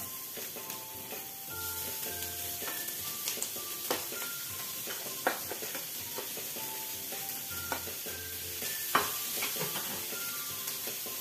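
Chicken meat for croquettes hits a pan and is stirred, giving a steady close sizzle with scattered scraping clicks and light clatter throughout, with no talking.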